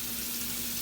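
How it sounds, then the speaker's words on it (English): Steady hiss of water running from a kitchen tap into a pot, constant and close, with no talking. "Do you want to put the water in the pot?"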